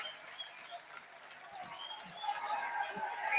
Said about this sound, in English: he gets a warm round of applause from the Tyne Weir stand here